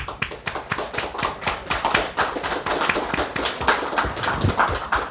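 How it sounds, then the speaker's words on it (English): Audience applause at a panel discussion on EU security, dense steady clapping from many hands filling the room at an even level for several seconds, with no talking over it. "This applause is for you."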